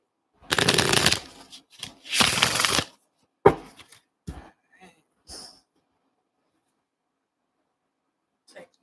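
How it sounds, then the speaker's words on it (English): Tarot cards being shuffled close up in two quick riffling bursts, followed by softer taps and handling of the deck amid quiet pauses. "Let me just shuffle this."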